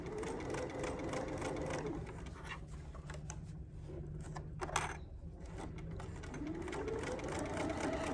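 A sewing machine stitches along a seam with a steady mechanical hum and rapid needle chatter, slowing and speeding in smooth ramps, faint and close.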